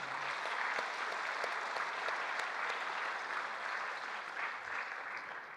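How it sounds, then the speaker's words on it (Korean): Audience applause at a Korean gathering, steady and sustained clapping from a crowd, fairly even in loudness throughout with no talk over it. "우리 박수 한번 올려주시면 좋겠습니다"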